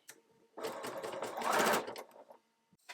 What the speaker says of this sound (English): And then you go ahead and sew that down.